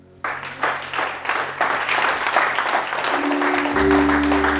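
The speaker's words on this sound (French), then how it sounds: "Acclame Jésus." A church congregation bursting into applause, a sudden rush of many hands clapping that builds into a sustained, reverberant roar, with cheering voices and a sustained tone rising underneath near the end.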